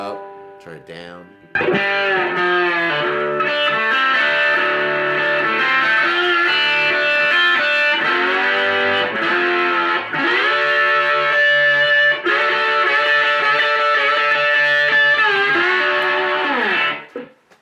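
Electric guitar played through a distortion pedal with the knob pulled out for heavy gain, run into an amp; a thick, sustained distorted chord tone rings out loud and steady for most of the stretch after a brief pick-in.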